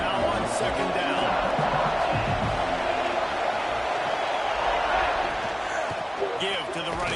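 A stadium crowd roars on third down in a Madden American football game, a loud, sustained wash of cheering and shouting under a play-by-play commentator's voice, with a few sharp thumps standing out.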